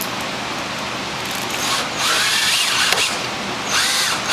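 A power drill drives the six supplied screws into a top rail bracket from a Southern porch rail kit. The whine is loud and steady and rises in pitch as each screw seats. Nobody speaks.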